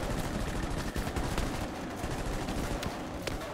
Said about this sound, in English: somebody's got a gunner, a machine gunner, west